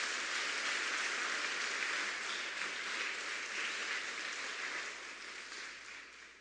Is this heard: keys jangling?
no